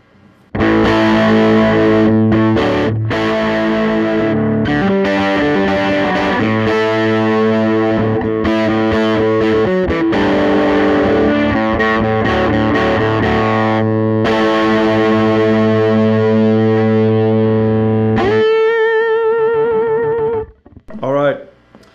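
Distorted electric guitar with the tone control rolled back to cut treble and push the low mids, a thick sustained riff and chords ringing close for about twenty seconds before stopping, with no talking.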